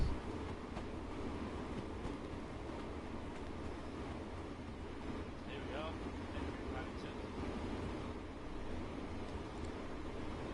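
Great Western Railway train in the Train Sim World video game at Paddington, a steady low rumble of the train running, with faint clicks and a voice talking over it.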